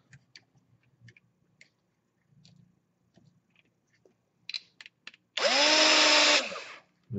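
Near the end, a power driver whirs in one short, loud burst while tightening a bolt on an S500 drone quadcopter frame, after a stretch of faint ticks and handling clicks, with no talk.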